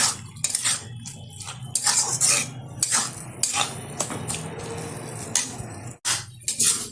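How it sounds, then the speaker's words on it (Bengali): Grated khoya kheer and milk stirred into bottle gourd in a pan for a sweet, with repeated scraping and clinking of a spoon against metal, busy and irregular throughout. "ভালোভাবে লাউয়ের সাথে মিশিয়ে নেব উপকরণগুলো"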